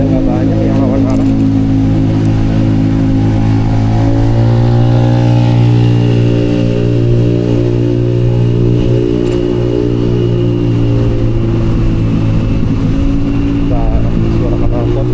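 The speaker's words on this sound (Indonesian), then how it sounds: "Suara knalpotnya berisik banget ya" Loud motorcycle and car exhausts in Jakarta street traffic, a steady close engine drone with passing revs that rise and fall throughout, and a voice talking over it.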